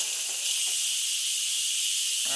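Steam hisses steadily and loudly from a pressure cooker on quick release while stuffed cabbage cooks, a continuous high rush running throughout with no talk.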